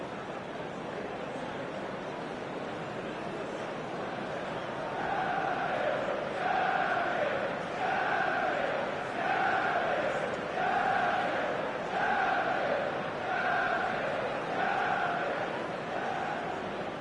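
A large football stadium crowd on match day makes a steady roar, which swells into a rhythmic, repeating chant, distant and sustained.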